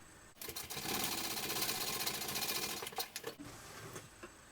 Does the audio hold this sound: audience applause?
no